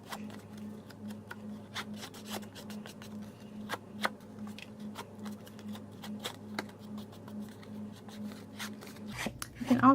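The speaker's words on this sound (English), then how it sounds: "just kind of rub the bone folder along the edges" A bone folder rubbed along the edges of a sheet of paper to distress it, giving a soft, steady scraping and rustling with repeated light ticks, close and quiet, ending in a brief louder handling noise.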